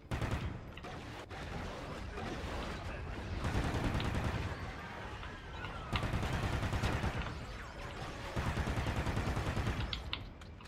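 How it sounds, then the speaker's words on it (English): Sustained, dense shooting in Call of Duty Ghosts Extinction, with a gargoyle firing at the player amid heavy continuous gunfire and booming impacts at fairly low overall volume. "The gargoyle is shooting at me"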